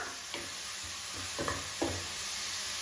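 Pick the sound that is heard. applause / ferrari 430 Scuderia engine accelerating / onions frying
onions frying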